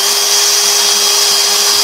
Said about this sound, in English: I'm just going to drill a few holes, one in each of these little tree shapes here.